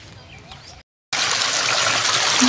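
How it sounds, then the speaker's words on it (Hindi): Water pouring from a solar-powered motor pump in a village field, a loud steady gushing flow close by after a brief dropout, with faint rustling before it. "ये पानी मोटर का आ रहा है, कुएं का नहीं है, मोटर का पानी आ रहा है।"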